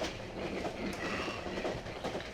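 A train ride in the video game Cry of Fear gives a continuous rumbling roll of carriage and wheels, loud and close, with faint rattling throughout.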